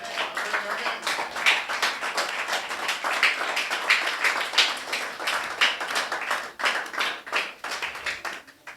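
A church congregation claps in praise to glorify God, many hands striking at once in brisk, uneven bursts. The applause is fairly loud and continuous and thins slightly near the end.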